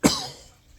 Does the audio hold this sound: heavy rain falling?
no